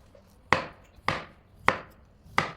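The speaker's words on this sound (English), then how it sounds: "she starts off by slicing her mustard root into thin pieces" A knife slices mustard root (zha cai) into thin pieces on a board, four sharp, evenly spaced cuts about half a second apart, close and clear with no talking.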